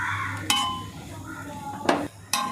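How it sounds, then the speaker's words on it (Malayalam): Metal spoon scraping and clinking against a pan while masala is stirred into leftover idli pieces, three sharp knocks standing out over a steady low kitchen hum. "അപ്പോൾ നമ്മുടെ മസാലയെല്ലാം ഇളക്കി ഇഡ്ഡലിയിലേക്ക് ശരിക്കും മിക്സ് ചെയ്തു."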